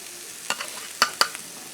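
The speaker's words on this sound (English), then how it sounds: "so I'm going to give it one more stir before I add it." Leftover breakfast sizzles softly in a pan on a gas stove while a utensil stirs it, giving three or four distinct scraping clacks against the pan over a low, constant hiss.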